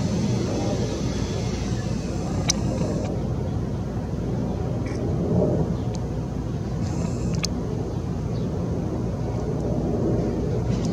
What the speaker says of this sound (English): So Alaska landing at Palm Springs.